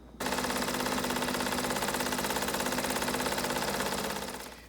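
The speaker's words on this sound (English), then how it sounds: "we're going to take them to the machine and just roughly sew them together to give them some stability" A sewing machine set to a wide stitch width runs steadily, roughly stitching pieces of fabric together for a DIY face mask with a filter pocket; a fast, even mechanical rattle starts abruptly, holds for about four seconds, then fades.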